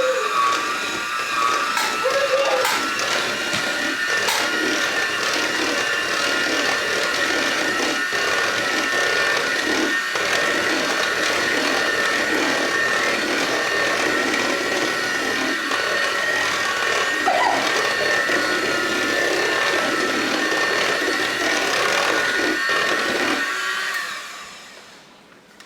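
Frozen lemonade and condensed milk being mixed for a lemonade icebox pie, a steady high whirring motor running continuously for about twenty-five seconds before winding down and stopping.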